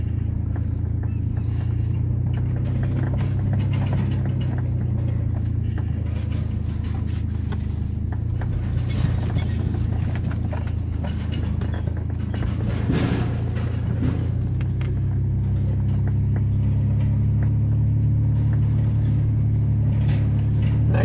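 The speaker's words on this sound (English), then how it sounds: "Nice leisurely drive on my property." A car cruises slowly on a rural country property, a loud steady low engine and road rumble with tyre noise throughout, no talk.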